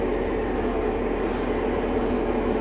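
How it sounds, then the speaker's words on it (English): A model train rolls steadily along an elaborate layout with a village and freight yard, giving a continuous low mechanical rumble with faint rhythmic clatter, close by and moderately quiet. "Probably the most elaborate train setup I've ever seen."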